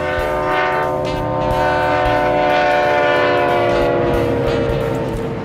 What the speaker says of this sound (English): These three units are E9 diesel locomotives built in